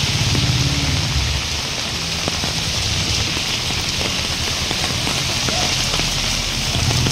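Steady, dense hiss of heavy typhoon rain pouring down without pause in Manila, loud and close, with a low rumble underneath.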